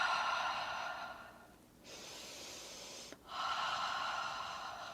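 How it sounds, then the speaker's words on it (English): Heavy, rushing breaths during a cardio workout, several long exhales and inhales close to the microphone separated by brief pauses, loud and breathy with no talking. "Breathing, don't forget to breathe"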